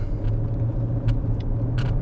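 Inside a Mercedes S-Class AMG with ABC suspension while riding: a constant deep road rumble and engine hum, with a few soft higher taps and bumps from the ride, and no talking.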